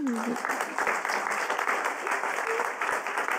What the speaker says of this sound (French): c'est une bonne idée de les applaudir, allez-y